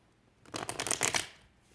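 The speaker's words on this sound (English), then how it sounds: "The cards are tight. Let's shuffle them." A deck of tarot cards is riffled and shuffled in one brisk, close burst of rapid papery flutters lasting under a second.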